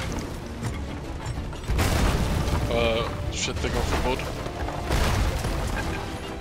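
In the pirate video game Sea of Thieves, ship cannons fire in a heavy, continuous barrage of booms and crashes, loud and dense, while someone talks over the battle.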